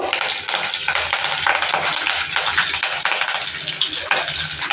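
Mustard seeds and curry leaves fry in a spoonful of hot oil, giving a loud, dense, steady sizzle with crackling pops that continue throughout.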